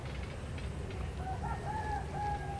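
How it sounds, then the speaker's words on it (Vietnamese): Birds call faintly from a tin roof at an abandoned house, a few short chirping and warbling notes over a steady low rumble of background noise. "Mấy con chim á."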